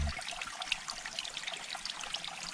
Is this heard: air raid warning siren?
no